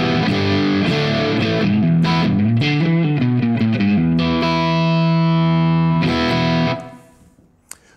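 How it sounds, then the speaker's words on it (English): Electric guitar played through the dirty channel of a TH30 amp, moderately overdriven: a run of chords and riffs, then a sustained chord ringing out and fading to silence, loud and close. "And now we switched across to the dirty channel on our TH30."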